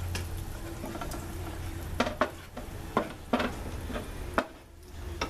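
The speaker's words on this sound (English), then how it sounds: "Then we'll add the eggs." Eggs go into a breakfast pan with cooked onions and potatoes, giving a steady low sizzle broken by several sharp scrapes and knocks of a utensil stirring against the pan, close and fairly quiet.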